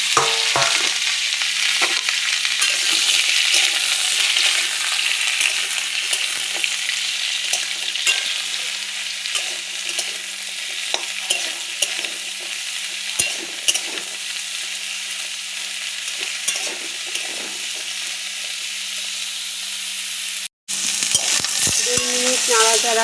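Pumpkin, pointed gourd, potato and Malabar spinach stir-frying in a little hot oil, a loud continuous sizzle with scattered spatula scrapes and knocks, broken by a brief cut near the end before the sizzling resumes.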